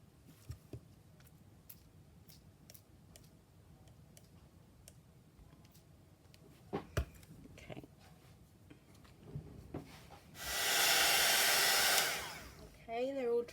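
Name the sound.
dryer blowing air to dry junk journal paper pieces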